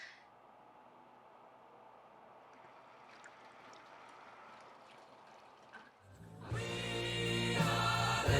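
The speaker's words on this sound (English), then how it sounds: "we're gonna run the pump so that we can get some coolant in the tubes" PC water cooling loop pump pushing coolant through the tubes of a custom build with an EK Quantum Vector 3090 backplate, a faint steady trickle for six seconds, then a sudden loud gurgling whoosh as the flow surges.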